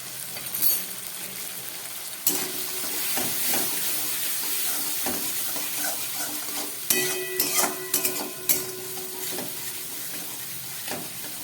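A spice paste seasoned with salt and turmeric fries in a pan and is stirred, giving a steady close sizzle with scraping and sharp clinks of the spoon, busiest toward the end.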